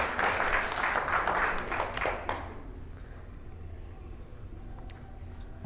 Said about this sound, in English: Everybody hand a round of applause for her.